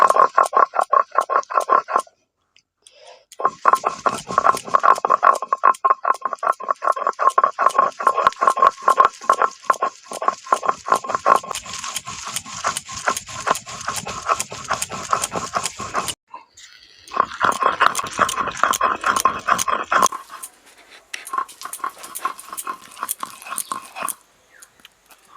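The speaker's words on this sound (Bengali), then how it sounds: "জল ছাড়া এগুলোকে সব একসঙ্গে বেটে নিতে হবে।" Flat beans, green chillies and chopped coriander are ground together without water for sim bharta, making loud rapid rhythmic rasping strokes in long bursts, broken by a few short pauses.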